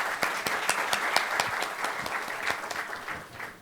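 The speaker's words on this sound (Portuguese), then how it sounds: "Uma salva de palmas para a Marina" A round of applause from the audience at a public-sector talk on procurement innovation, with distinct individual claps standing out over the dense clapping before it tapers off.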